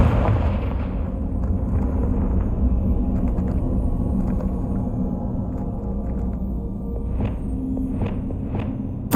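A Confringo fire-blast spell bursts in Hogwarts Legacy on PlayStation 4 Pro, a booming blast inside a continuous heavy rumble, with faint clicks and bright pings near the end.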